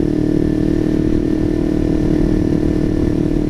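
Small sport motorcycle engine, a Kawasaki Ninja 300 or Yamaha YZF-R15, running steadily close by with a continuous buzzing drone and slight clatter, no talk over it.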